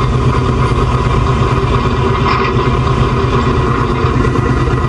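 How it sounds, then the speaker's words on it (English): A truck's engine idles steadily throughout, a continuous low rumble with a broad mechanical hum, close and loud, with no talking over it. "Hear the engine of the truck."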